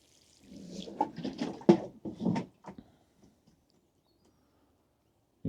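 Air bubbling up through water-soaked seed compost in a sowing tray: a close, quiet run of soft gurgles and small pops for about two seconds, then a few scattered ticks and a brief final pop.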